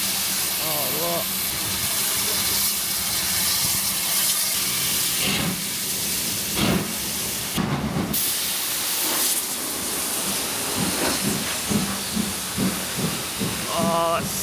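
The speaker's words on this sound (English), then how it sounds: "I think there's a steam train." A steam train lets off a loud, continuous broadband hiss of steam at close range in an English town, with short bursts and surges while people talk nearby.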